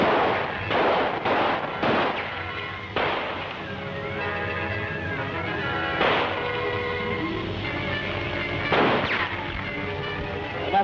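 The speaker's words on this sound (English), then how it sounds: "They're not firing very often." Gunfire in a 1937 adventure film serial: several sharp rifle shots ring out at irregular intervals, loud and echoing, with dramatic orchestral music playing underneath.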